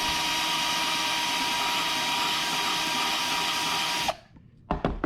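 Power drill opening up holes in a skateboard deck, a loud continuous whirring drone that cuts off abruptly near the end, followed by a few brief clicks and knocks.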